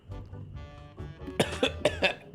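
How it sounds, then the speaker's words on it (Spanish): A character in The Secret of Monkey Island 2: LeChuck's Revenge lets out a short run of dry, harsh coughs, four or five close together, right after some murmured game sound. "A veces tengo que toser para liberar tensión"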